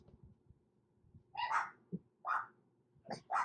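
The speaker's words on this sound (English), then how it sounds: "The neighbor's dogs are out." Neighbouring dogs outdoors give several faint, distant barks in an irregular series of short yaps.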